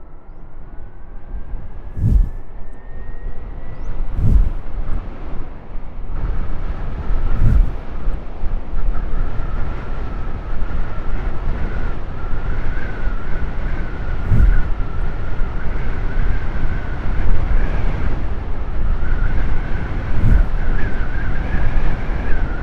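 An electric Suzuki E-Access scooter held at top speed, around 75 km/h, producing a steady motor whine under constant loud wind rush and road noise, with a few brief thumps from bumps along the way.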